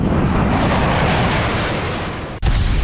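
Continuous heavy roar of missile and artillery fire in Taiwan, loud and sustained like a rumbling blast, with a brief cut near the end before the roar resumes.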